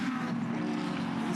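A Sports GT race car at Symmons Plains Raceway in 2017 roars past close by, its engine a steady, loud, buzzing drone through a brief burst.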